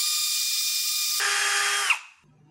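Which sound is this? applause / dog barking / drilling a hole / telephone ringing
drilling a hole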